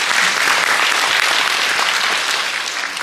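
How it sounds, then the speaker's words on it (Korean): Sustained applause from an audience at a Korean policy forum, loud and even throughout, fading slightly toward the end. "박수 부탁드립니다"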